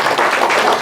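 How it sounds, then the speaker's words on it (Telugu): An audience at a Louis Braille birth anniversary event in Jagtial claps. The loud, dense clapping comes from many hands at once and stays even across a short burst. "చప్పట్లు కొట్టండి."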